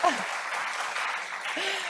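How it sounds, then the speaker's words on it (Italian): Applause from the audience at a business assembly on generational succession, a dense steady patter of many hands that holds evenly for about two seconds, with a brief voice at the start and again near the end. "E ci sta l'applauso."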